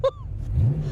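Foreman CanAm kit car engine catching after a short tone, then a low, steady rumble that builds and rises in pitch as it revs up close by.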